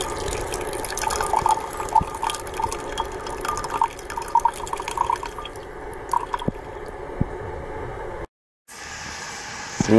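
Sixty millilitres of water poured into ammonium dichromate while preparing a copper chromite catalyst. A steady liquid trickle with small drips runs close by for about eight seconds, then stops abruptly.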